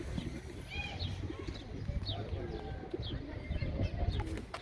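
Pigeons coo repeatedly amid a busy outdoor bird market crowd at Edirnekapı, with scattered chirps and murmuring voices mixing into a constant lively din.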